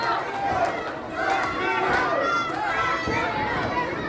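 Wrestling crowd roaring and cheering for Matt Riddle at a live independent show, a dense, sustained wall of voices with shouts rising and falling throughout.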